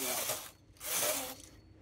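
A knitting machine carriage is pushed across the needle bed to knit stitches, giving two faint ratcheting, clattering passes, each about half a second long, with no talk.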